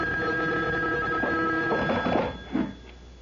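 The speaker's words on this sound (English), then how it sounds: "The phone. At this hour?" Electric telephone bell ringing in a radio drama, a steady ring sustained for about two seconds then cut off, followed by a brief clunk as the receiver is lifted.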